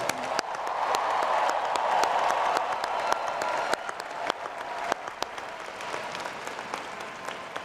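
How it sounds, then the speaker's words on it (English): Commencement crowd at Howard University applauding the graduating class, broad sustained clapping with a few sharp nearby claps standing out, easing slightly partway through and continuing without speech. "Please give them a warm round of applause."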